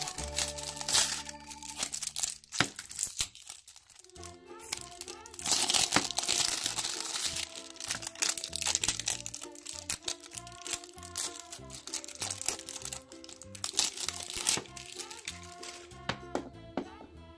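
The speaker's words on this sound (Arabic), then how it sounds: "دعونا ننزع الكيس ثم نرى." Crinkly plastic bag being pulled open to remove toy balls, close, continuous crackling and rustling with bursts of louder crumpling and a few light taps throughout.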